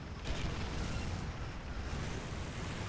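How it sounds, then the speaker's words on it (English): A tank's cannon barrel is struck during a War Thunder ground forces simulator battle. A loud, heavy booming rumble fills the whole moment without pause, and no one talks. "Cannon barrel is hit."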